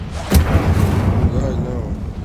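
The Incendio fire spell in Hogwarts Legacy goes off as a sharp burst followed by a roaring whoosh of flame that fades out over a couple of seconds, with voices underneath.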